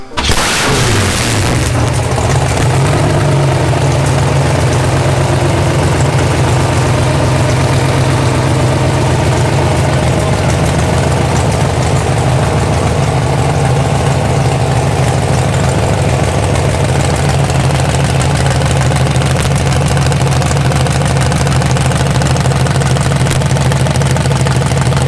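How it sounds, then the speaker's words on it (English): A 1930 Ford street rod hot rod cold-starts with a sharp burst, then settles into a loud, steady, rumbling idle that runs unbroken and close up, with no talking over it. "give us people a chance to hear a cold start video on a hot rod like this"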